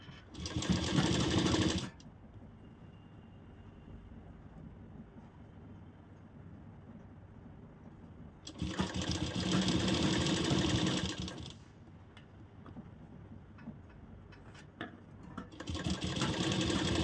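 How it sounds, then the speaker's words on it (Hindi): Sewing machine stitching the belt of a katori blouse, with three bursts of rapid, close needle chatter: two seconds at the start, about three seconds in the middle and a short run at the end, separated by quiet pauses. "और इस बेल्ट की भी हम सिलाई कर देते हैं।"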